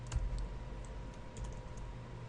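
Typing on a computer keyboard while entering code, a run of light, scattered key clicks at close range, irregular in rhythm, with a low steady hum beneath.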